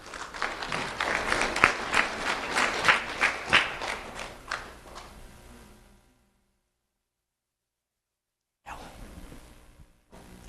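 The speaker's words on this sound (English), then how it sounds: "Let's have a round of applause for Ella Brott." Audience clapping at a sheriff's office ceremony recognizing a fourth-grade student, a burst of applause that tapers off and stops, followed by silence and then a brief return of room noise.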